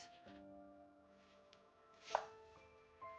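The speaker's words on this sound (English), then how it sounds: "I'm using buchu or Asian chives and cutting them into 2 to 3 inch pieces" A knife cuts Asian chives (buchu) into short pieces for kimchi, making a few sharp, close chops on a board over a quiet background with a faint hum.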